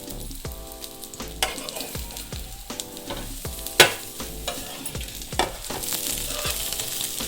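An omelet roll frying on one side in a pan, a steady close sizzle with repeated spatula taps and scrapes, one sharper knock midway, and the hiss brightening toward the end, with no talk.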